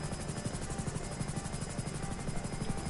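A bomb-capable helicopter in GTA 5 drones on steadily with a throbbing rotor chop and engine whine, continuous and fairly close, no talking.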